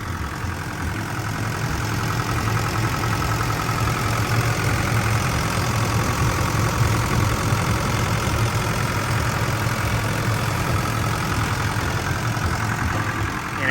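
A Kobelco SK70SR-2 seven-ton excavator's four-cylinder turbo diesel engine idles steadily and continuously, a dense low chugging rumble with mechanical clatter, close by and unchanging throughout, with no talking.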